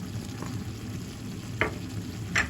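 A chicken stew with tomato pepper paste sizzles softly in a pot, with a low continuous frying hiss and a few brief scraping stirs, heard fairly faintly and without talk.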